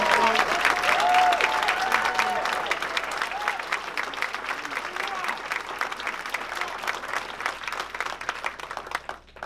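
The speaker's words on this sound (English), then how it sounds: "Give them a round of applause." A crowd at a public talk and Q&A gives sustained applause for military service members: dense, loud clapping and some crowd noise that swells at first, then gradually thins and fades toward the end.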